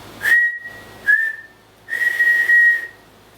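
A person whistles three clear tones close up, two short notes followed by a longer held one, bright and alone with no talking around them.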